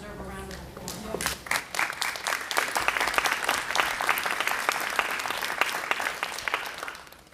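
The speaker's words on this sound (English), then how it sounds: "They all deserve a round of applause." Audience applause for teachers at a school board meeting: a voice is speaking as dense clapping begins, then a steady, sustained round of many hands clapping at moderate distance, tapering off toward the end.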